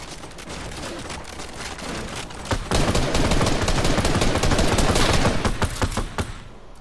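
Rapid booming cannon shots fire in a dense volley in Fortnite, growing heavier midway and continuing in quick succession, loud and close.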